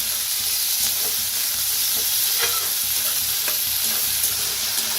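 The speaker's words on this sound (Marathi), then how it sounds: "त्याच्यात टाकूया टमाटो, 2 कापून घेतली होती बघा आपण, ते बी छान असं भाजून घेऊया" Onion and tomato frying in a pan, a steady close sizzle with occasional stirring scrapes, no voices over it.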